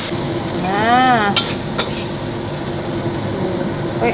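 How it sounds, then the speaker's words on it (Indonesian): Asparagus and shrimp stir-fry in a pan with a steady close sizzle and scraping stirs, plus a brief rising whistle-like tone and a sharp clack partway through. "tumis asparagus dan udang"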